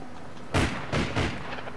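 Weapon fire in the online shooter APB Reloaded: three booming shots in quick succession, fairly quiet, over a low steady background.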